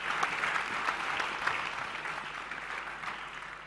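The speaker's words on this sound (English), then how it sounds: "a big applause to the 3 of you" Audience applause for a festival main-stage panel, a moderately distant, even patter of many hands that gently tapers off over a few seconds.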